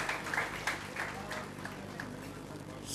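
An audience at a school prize ceremony for twelfth-grade students applauds in a fairly faint, busy patter of claps, with a few sharper hits early on and a voice faintly mixed in.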